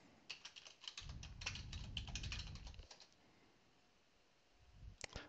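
Quick bursts of typing on a computer keyboard as a password is entered for a remote PowerShell session, soft clicking keystrokes in an irregular patter, fading to a pause before a final keystroke or two.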